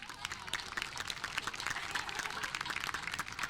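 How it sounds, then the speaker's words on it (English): Crowd at a high school football senior night applauds the senior class, a continuous spread of clapping with faint voices mixed in. "Let's give them all a big round of applause."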